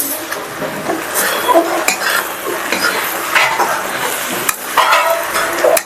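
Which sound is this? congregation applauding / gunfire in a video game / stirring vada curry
stirring vada curry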